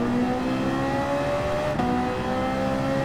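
A Ferrari 458 Italia racing car engine in Gran Turismo 7 sings at high revs, a loud sustained whine that climbs steadily, dips briefly at a gear shift and climbs again, with no voices.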